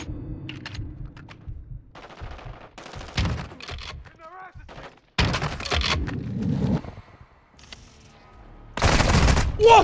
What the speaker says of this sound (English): Where's he shooting at me from?